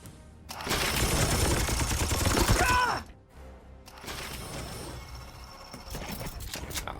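Loud rattling gunfire in a Warhammer 40K tactics game fighting Nurgle forces, a dense mechanical burst for a few seconds, then a short gap and a quieter rattling stretch with clicks.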